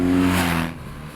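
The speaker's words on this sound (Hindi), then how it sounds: "हेलमेट के अंदर भी जो आवाज़ है वो आपको एडिक्टिव लगेगी, और लगेगा कि हाँ ये इंजन रोर कर रही है" A BMW R 1250 GS adventure motorcycle engine roars loudly and close, its deep throbbing tone holding steady, then easing off partway through the clip.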